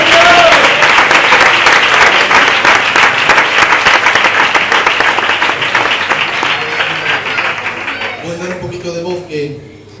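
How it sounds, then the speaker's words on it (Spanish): A church congregation gives a loud burst of applause at a Spanish-language worship service, dense clapping that gradually thins and fades over the final seconds. "¿Cuánto le pueden dar un fuerte aplauso al Señor?"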